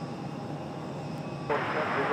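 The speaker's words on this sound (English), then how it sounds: "Another United Express E175 coming up next" A United Express Embraer E175 jet approaches Raleigh-Durham airport in a low, distant engine rumble that swells slightly louder near the end, with radio chatter faintly underneath.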